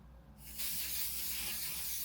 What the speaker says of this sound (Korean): 선스프레이. 몸에다가 뿌리는 거?